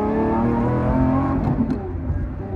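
A modified car engine revs close-up with a steady, throaty drone as the driver shifts into third gear, dipping briefly midway before settling again.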